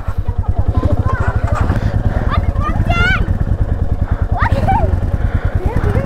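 A Royal Enfield Meteor 350 motorcycle idling and riding close by, with a deep, rapid, even thumping exhaust pulse throughout and people talking over it.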